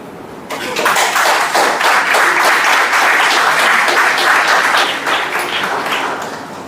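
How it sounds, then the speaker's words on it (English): A crowd at a Constitution Day walkathon celebration breaks into loud applause after a brief lull. The dense, close clapping holds steady for several seconds before thinning slightly toward the end. "Thank you for your claps"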